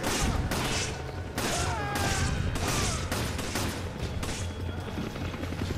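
Rapid, loud gunfire from Resident Evil 5 sounds in dense, overlapping bursts of shots. It runs continuously with no pause and no voices.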